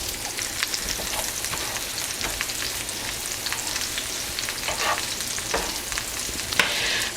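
Vegetables and garlic fry in butter in a pan, giving a steady close sizzle with crackling pops and occasional scrapes of stirring, no voices.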